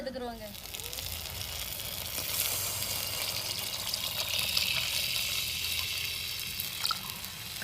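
Dissolved tamarind water is poured into a simmering South Indian kuzhambu curry. A steady, close, hissing splash of liquid runs for several seconds without a break.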